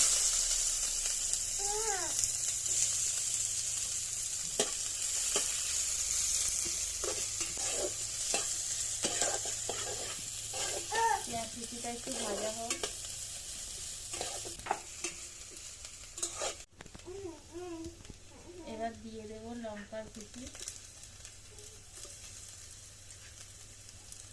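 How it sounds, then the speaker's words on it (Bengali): Whole cumin seeds and chopped onion sizzle in hot oil in a home kitchen, a steady frying hiss broken by repeated scraping stirs and clinks of a utensil against the pan. "তেল গরম হয়ে গেছে ফোড়নে দেবো গোটা জিরে দিয়ে দেবো পেঁয়াজ কুচি"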